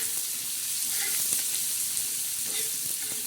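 Onion sautéing in a pan for a chana dal chutney gives a steady, close hiss of frying, dotted with faint scraping clicks of stirring throughout, with no voices.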